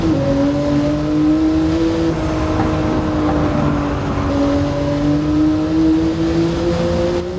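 A Porsche 911 GT1 Strassenversion engine in the racing game Gran Turismo 7 drones loudly and continuously on the Nürburgring, its pitch holding high with slight shifts as it revs, with no voices.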